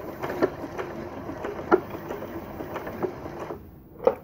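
A computerised sewing machine set to stitch width 4.0 runs a zigzag stitch to sew a button on, a soft steady whirring hum with a few sharper clicks as the needle strikes, stopping near the end.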